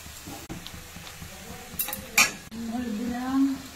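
Chicken skin cooks in a pan, with a low sizzle under scraping and clinking of a utensil against the pan, a couple of sharp metallic clanks midway and a quiet voice in the background.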